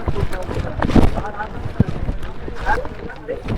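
Strong mountain wind on the Girnar climb roars and buffets the microphone in a steady, gusting rush, with voices faintly mixed in beneath it.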